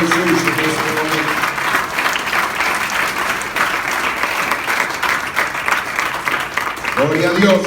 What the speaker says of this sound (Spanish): Un aplauso fuerte para el Señor Jesús en este momento.